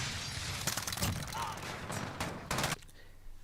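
Rapid gunfire bursts in Modern Warfare, several loud clustered volleys over about three seconds, with an Uzi-type submachine gun in play on a multiplayer map, ending abruptly into quieter background.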